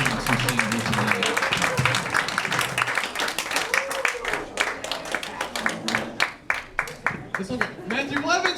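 Comedy club audience at a comedy championship event applauds, a dense wash of clapping with cheers that thins into scattered claps toward the end, while a host speaks over it.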